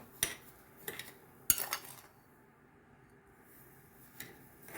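Spoonfuls of sugar tipped into a 3-litre glass jar for lazy marinated tomatoes, a few sharp clinks of a metal spoon on glass with soft pouring rustles between them, close, then quiet.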